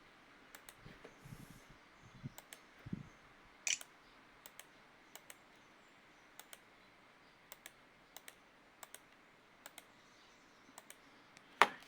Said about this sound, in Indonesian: kita masukkan password menggunakan keyboard internal